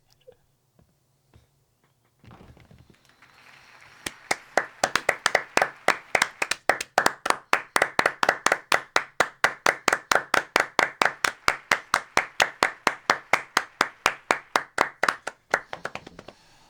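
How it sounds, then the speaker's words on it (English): A reactor claps his hands in a steady, even rhythm, with dozens of sharp close claps that start after a few scattered taps and keep on at a regular pace without stopping. "I feel like I'm clapping too early, but yeah, I am clapping too early."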